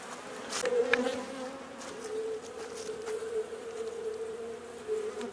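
Honey bees buzz steadily around hive frames while a colony is reduced to seven frames for winter, a dense close hum with a few louder passes and no talk.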